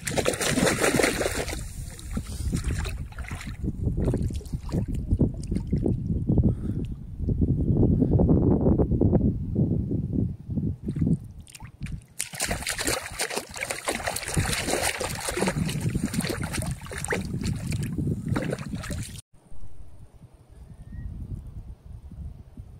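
Water sloshes and splashes against a moving boat on Sundarbans waterways during a crab-fishing trip, loud and continuous, with a brief quieter stretch near the end.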